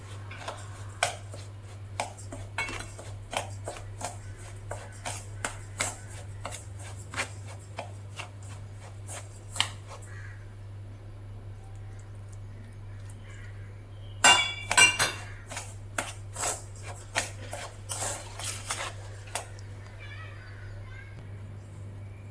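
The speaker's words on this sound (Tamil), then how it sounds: "நம்ம வறுத்து வச்சுருக்கோம்ல ரவா, அதில் கொஞ்சம் கொஞ்சமாக ஊற்றி கிளறி விட்டுக்கலாம்" Roasted rava semolina being stirred in a pan while water is added bit by bit for puttu: soft scraping and sharp metallic clinks scattered over a quiet steady hum, louder briefly in the middle, with no talking.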